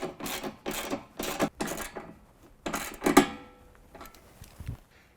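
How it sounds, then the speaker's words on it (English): A 13mm wrench tightens a bolt into a GMC Sierra or Chevy Silverado rocker panel, making bursts of quick ratcheting clicks in a close, short rhythm, five or six runs separated by brief pauses. "we're going to use a 13mm to tighten up the bolt going into the rocker panel"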